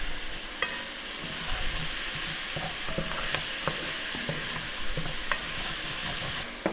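Onions sautéing in a Dutch oven for pot roast, a continuous close sizzle broken by the clicks and scrapes of stirring.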